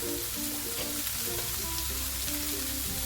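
Moth beans (matki), seasoned with salt and coriander, are sautéed and stirred in a pan, giving a constant close sizzle and crackle with scraping stirs woven through it.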